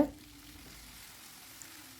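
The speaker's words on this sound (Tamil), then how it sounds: "இதை நல்லா வறுத்துக்கோங்க." Steady low sizzle of ingredients for garlic kuzhambu frying in a pan, with faint stirring scrapes; quiet and continuous, no voices.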